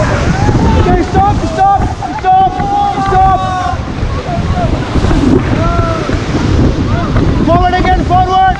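A raft paddled along a river in Rishikesh, with steady splashing and rushing water under strong wind buffeting the microphone, while people call out loudly throughout.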